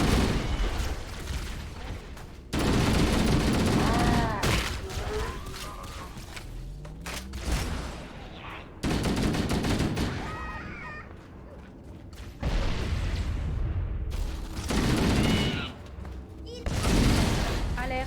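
Cannon blasts and bursts of gunfire in the video game Halo, dense booming volleys and rattling shots in repeated waves across the scene, loud and close, with French-speaking voices talking over the battle.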